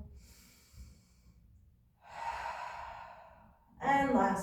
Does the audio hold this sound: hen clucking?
no